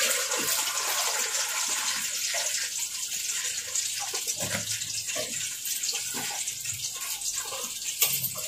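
Finely chopped onions fry in ghee in a kadai, giving a loud, continuous close-up sizzle and hiss with small crackling flare-ups throughout.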